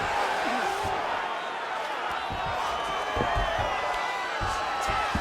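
Arena crowd noise from the UFC 5 mixed martial arts video game, a steady roar of cheering and whooping that runs loud and continuous throughout with occasional sharper bursts.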